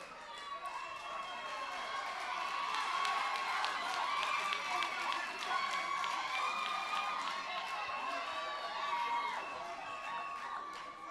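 An audience at a televised presentation contest cheers and applauds, a broad wash of clapping and high excited shouts that swells and then holds at a moderate distance, with no talk over it.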